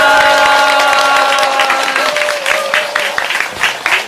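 Applause and cheering from a large audience at a lecture event at Haneulgung sound loud and dense, continuing steadily and gradually thinning into scattered claps, with a sustained tone held under the start.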